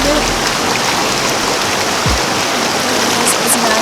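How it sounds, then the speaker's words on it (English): Steady rushing of a small waterfall and stream at Inglis Falls Conservation Area in Owen Sound, Ontario, a constant broadband wash of water close by with a brief low thump near the middle and faint chirps late on. "there's like a little waterfall over there too"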